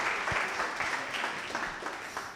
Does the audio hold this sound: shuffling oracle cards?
no